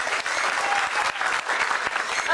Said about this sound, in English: Can we have a nice round of applause for Mark from St.